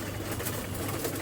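Pigeons cooing softly in a pigeon loft on a farm, a low continuous murmur of birds at a moderate distance with no talking.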